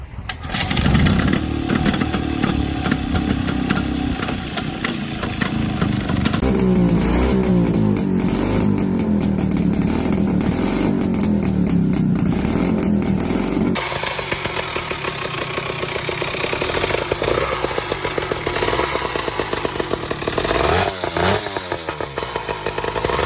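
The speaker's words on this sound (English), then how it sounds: "About 70 years ago there were even motorcycles with a 2-stroke boxer engine. They sounded like this." An old two-stroke boxer-engine motorcycle, about 70 years old, runs loudly and continuously, buzzing and revving with a raspy two-stroke tone that shifts pitch several times.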